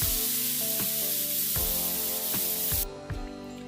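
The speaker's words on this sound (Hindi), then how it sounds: "अब यहाँ पर कुकर में सीटियाँ भी आ चुकी हैं" Steam hisses loudly and continuously from a pressure cooker whistle on a stove, with faint rhythmic rattling ticks, then drops away near the end.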